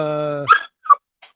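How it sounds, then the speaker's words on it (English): Puppies let out high-pitched whimpers, a short sustained whine followed by two brief yelps, close and loud. "Whoa, that was high pitched. Sorry, you can mute me. I have to feed these puppies."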